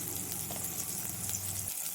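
Spices (coriander powder, chili powder) sizzle and fry steadily in a hot pan while making pudalangai kootu, a continuous close crackling hiss that cuts off near the end.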